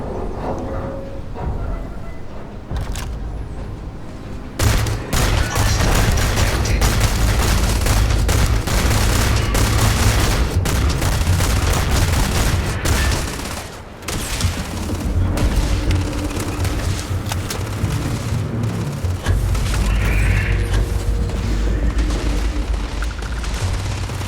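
Sustained gunfire and booming blasts roar through a firefight in the sci-fi video game Starfield, loud and continuous with dense rapid shots and a brief dip midway before the shooting resumes.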